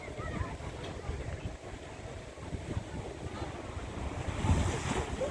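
Sea water surges through the Kiama blowhole on the coast, a continuous rough roar of churning surf and wind buffeting the microphone, swelling louder toward the end, with a voice speaking over it.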